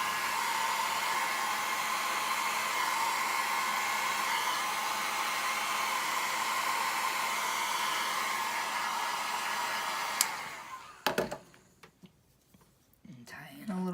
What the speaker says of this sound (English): go in here with my blow dryer.